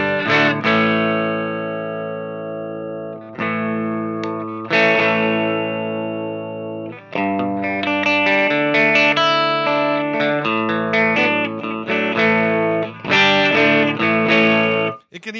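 Electric guitar played through a custom Hiwatt 40 amplifier fitted with four EL84 power tubes after a DR103 preamp, ringing out sustained chords and single-note lines with chimey, slightly driven tone and reverb, loud and close with no talking.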